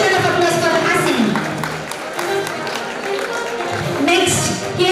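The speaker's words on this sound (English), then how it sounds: "Give a huge round of applause for Hasini." A graduation ceremony audience gives steady applause for a graduate, a dense, even wash of clapping mixed with crowd noise and faint cheering, with voices audible underneath.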